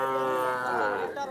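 A calf at a cattle market lets out one sustained, rich moo that fills the whole moment, loud and close with no other sound competing.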